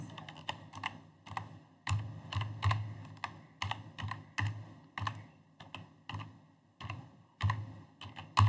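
Steady typing on a computer keyboard, with quick clusters of close, crisp key clicks and short pauses between bursts, and no one speaking.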